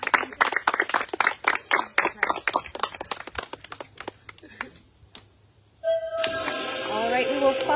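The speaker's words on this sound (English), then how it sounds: "Applause all around for Francis." Applause for Francis at a merge tribal council: a dense burst of close clapping that thins and fades over about four seconds, a brief lull, then music begins.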